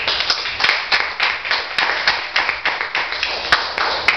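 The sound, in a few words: applause in a church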